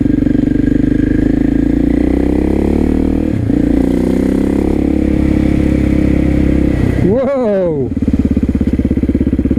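KTM 660 SMC supermoto single-cylinder engine on a ride along the Herts–Essex borders: a steady loud drone, then a sharp rev rising and falling with gear changes near the end, under a brief shouted exclamation.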